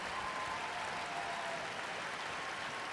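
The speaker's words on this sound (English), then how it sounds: "Let's hear you cheer." A crowd in a room cheers and applauds after a final, dense steady clapping that fills the space at even loudness for a few seconds, without clear voices on top.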